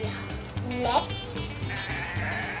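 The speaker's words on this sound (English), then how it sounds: "I found the sheep." Cartoon sheep bleating in the Paw Patrol On a Roll video game, a clear wavering bleat over steady game music.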